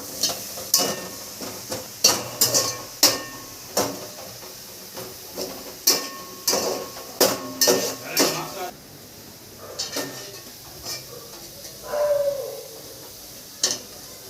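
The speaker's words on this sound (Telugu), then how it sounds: "ఆనియన్ బ్రౌన్ అయిపోయింది పాప ఇప్పుడు తీస్తున్నాను" Browned fried onions for biryani are scooped out of a pan with a run of close metallic clinks and scrapes, then the clatter thins out into quieter background noise.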